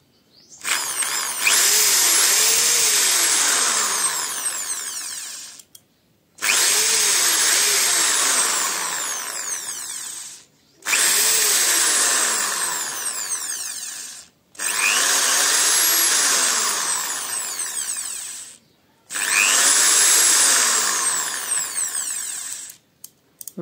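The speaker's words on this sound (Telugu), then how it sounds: "మనం రెగ్యులేటర్ అయితే మనం అప్ అండ్ డౌన్ చేసి మిషన్ అయితే ఆన్ చేయడం అయితే జరుగుతుంది." An ibell electric drill machine runs in five long bursts of steady high-pitched whirring, each several seconds long and separated by brief pauses, loud and close with no talk.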